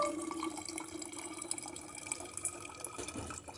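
Tap water pours into a household water filter in a thin, steady trickle with faint splashes and drips, close and fairly quiet.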